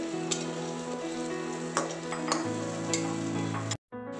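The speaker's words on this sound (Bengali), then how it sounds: "আমাদের মশলাটা প্রায় কষা হয়ে এসছে, তখনই আমি এই ভাজা আলুগুলো দিয়ে দেবো ওর মধ্যে" Fried potatoes going into a sizzling spice masala in a pan over high heat, a steady hissing fry with a few sharp clinks and scrapes, ending in a brief cut to silence.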